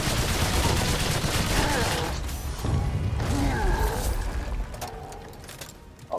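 Rapid gunfire from the video game Remnant 2 rattles loudly during a fight with a giant bloated boss, with mechanical clanks and creaks, fading toward the end.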